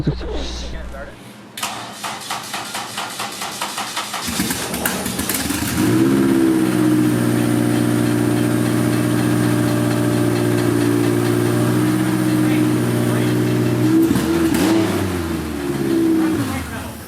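A Honda Civic's swapped-in Honda K-series engine cranks and catches, then settles into a loud, steady idle with some revving, and voices talk over it near the end.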